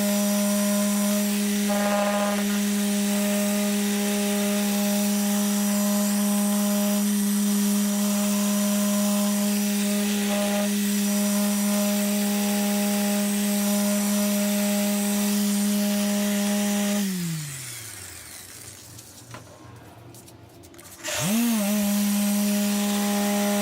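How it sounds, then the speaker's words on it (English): A machine sander spins against a wet car headlight during restoration, giving a steady high whine with a strong droning hum that winds down, pauses briefly, then spins back up. "I'm just going to do a slight sanding with the machine here"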